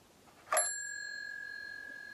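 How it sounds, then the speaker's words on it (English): A single bright strike of a hand bell, sharp attack followed by a long clear ringing tone that slowly fades in a quiet room. "someone rings a bell"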